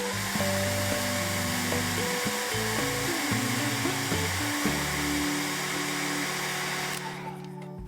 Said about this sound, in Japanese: 抜いたところはもう一度ドライヤーで乾かして